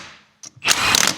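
A torque wrench on a Chevy C10 wheel nut gives a quick close metallic click, followed by a brief ratcheting burst, loud and alone.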